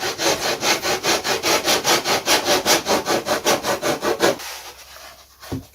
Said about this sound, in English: These fuselage are rounded, so it will be scraping off the middle first.